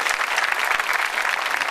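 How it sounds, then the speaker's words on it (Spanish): Loud, dense applause for the local public-benefit group Honrar la Vida, a continuous wash of many hands clapping close by with no break. "El aplauso, claro que sí"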